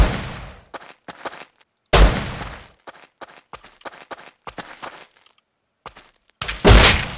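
Gunfire in a multiplayer survival game raid comes as sharp bursts and scattered single shots, some loud and near, others quick and clipped, with gaps of silence between.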